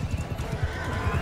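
Hooves of a galloping horse in the battle game Mount & Blade 2 Bannerlord, a steady rapid clip-clop beat with a horse neigh, busy and close throughout.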